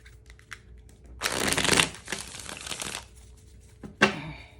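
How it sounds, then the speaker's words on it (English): A deck of tarot cards is shuffled in a crackling riffle lasting nearly two seconds, followed by a short sharp snap of cards, close and clear with no talking. "Yep, that was a cracky shuffle."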